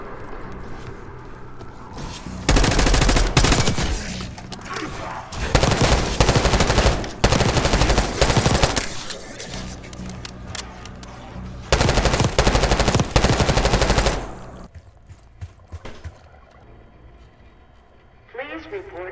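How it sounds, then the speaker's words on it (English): Loud bursts of automatic gunfire from Call of Duty: Black Ops 6 rattle out in several long, dense volleys separated by brief pauses, then fade to quieter ambience. "Gunfire? Yeah, sounds like it's coming from one of the lower floors."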